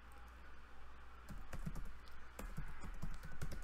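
Typing on a computer keyboard: close, quiet clusters of key clicks in irregular bursts over a steady low background hum, with no voices.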